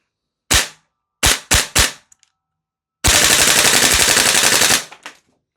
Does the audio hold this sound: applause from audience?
no